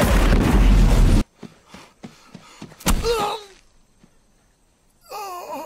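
Sharp explosive bangs from squibs set off on actors in a film scene: a loud burst at the start, then several short thumps and another blast, followed by wailing vocal cries between the impacts.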